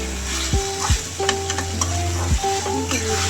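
Spice paste frying with potato and cauliflower in a pan, stirred with a utensil that scrapes and clinks, under a steady loud sizzle; no talking.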